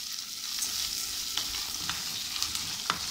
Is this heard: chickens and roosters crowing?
no